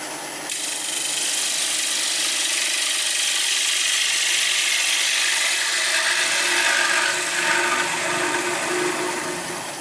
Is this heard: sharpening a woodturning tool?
yes